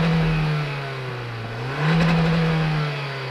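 A 2022 Hyundai Kona N Line AWD with dual exhaust on one side revs from outside, holding a droning idle before the engine note dips and rises in a short rev.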